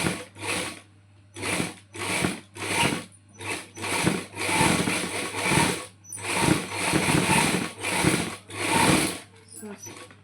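A sewing machine stitches lace onto a round garment neckline in about a dozen short, loud bursts of rapid whirring needle action, each separated by a brief pause, all close up.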